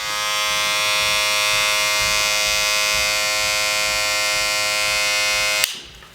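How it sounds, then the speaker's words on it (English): A Wahl Cordless Legend hair clipper runs with a loud, steady electric buzz, its tone unchanging for about five and a half seconds before it cuts off abruptly. "let's hear a little bit and compare it to other two clippers from Wahl and see what you guys think about the sound"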